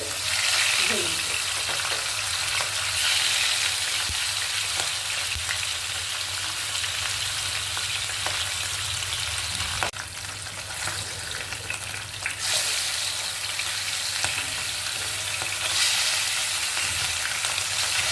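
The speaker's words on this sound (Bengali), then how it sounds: "তেল গরম হয়ে গেছে। এবার হালকা করে আমরা মাছগুলো জাস্ট এদিক ওদিক করে ভেজে নেব।" Fish fry in hot oil in a home kitchen, giving a continuous close sizzle with occasional scraping as the pieces are turned, and a few louder clatters partway through.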